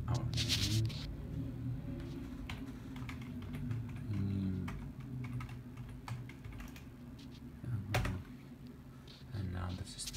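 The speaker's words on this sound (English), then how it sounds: "So let's start by typing our name." A name is typed on a computer keyboard in quick, irregular bursts of soft key clicks, fairly quiet, with a louder cluster of keystrokes near the start and someone speaking over parts of the typing.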